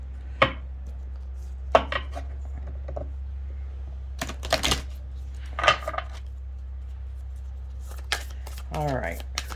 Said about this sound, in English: Let's do one good shuffle